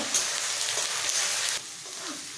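Green chillies and ginger-garlic paste fry in a pan for chilli chicken, a close, steady sizzle with light stirring that drops slightly in intensity partway through, no talking.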